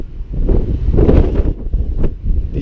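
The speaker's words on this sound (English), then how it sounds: "It's windy and there's some weather coming in" Strong coastal gusts near Mount Gambier buffet the microphone outdoors with a deep, roaring rumble that swells and eases over a couple of seconds, no voices.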